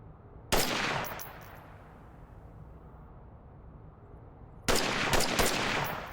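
Two loud bursts of rapid gunfire on a shooting range in the VR game Onward, each a close, sharp stream of shots, are separated by a quiet, decaying ringing gap.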